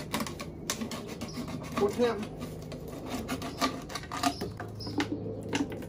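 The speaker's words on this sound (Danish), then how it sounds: "sådan en her flaske, som jeg tager en saks og lige klipper" Scissors snipping through a plastic bottle for an upside-down tomato planter, a steady run of close scraping, crinkling cuts under quiet talk.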